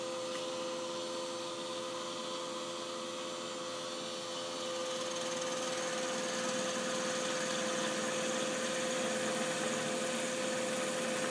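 A steady mechanical whir and hum of a Dyna Myte DM2400 milling machine side-cutting steel T-nuts, fairly quiet and even throughout, growing slightly louder partway through with no voices.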